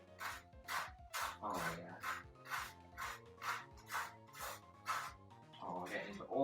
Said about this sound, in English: Let's spread that out